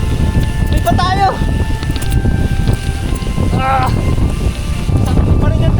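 Strong, sudden typhoon wind buffets a bike camping tent in Tanay, a constant loud roar and microphone rumble throughout, with a person talking over it and faint high whistling tones.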